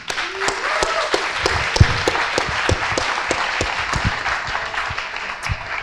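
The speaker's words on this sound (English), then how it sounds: "So yeah, a round of applause for everyone." Conference audience applause, a moderately loud crowd clapping steadily across the clip with a few sharper individual claps standing out.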